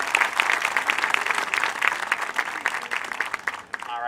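An audience applauds marching band drum majors at a school Parents Day event, a dense, steady patter of many hands clapping close by for about four seconds, thinning briefly near the end.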